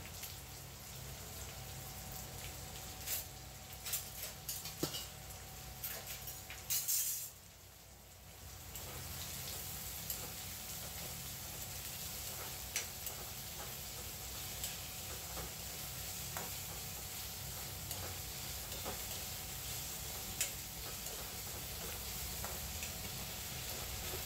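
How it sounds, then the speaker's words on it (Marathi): Onion and green chili tempering in hot oil for a Konkani taro-leaf dish, giving a steady, fairly quiet sizzle throughout with scattered crackles and a brief dip partway, no talking. "तेल तापलं की मी आता कांदा आणि मिरची टाकून देणार."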